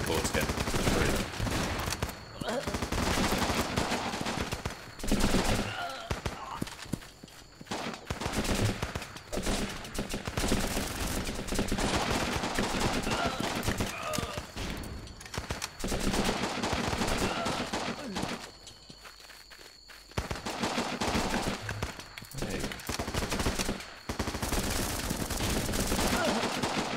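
Dense gunfire from the Running with Rifles video game, with sustained rifle and machine-gun bursts rattling almost continuously and loudly, broken by a brief lull before the shooting resumes.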